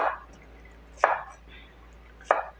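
A knife slices through cucumber on a cutting board, three crisp separate chops spaced about a second apart, close and clear against quiet background.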